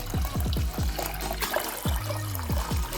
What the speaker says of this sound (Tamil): இப்போ எவ்வளோ ரசம் வேணுமோ அந்த அளவுக்கு நம்ம தண்ணி சேர்த்து கன்சிஸ்டன்சியை அட்ஜஸ்ட்